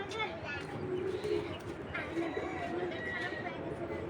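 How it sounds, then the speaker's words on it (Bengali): Soft, repeated cooing from old-breed Naptha tournament pigeons, steady and close, with overlapping bird calls and chatter continuing throughout the loft. "পুরান জাতের টুর্নামেন্টের নাপতা কবুতর এগুলা"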